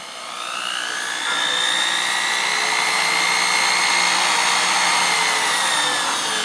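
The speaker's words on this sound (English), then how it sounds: "we have a Westhoff horizontal high speed drill." A Westhoff Model 100 variable-speed horizontal high-speed drill whines steadily, spinning up at the start and then holding a loud, piercing pitch throughout.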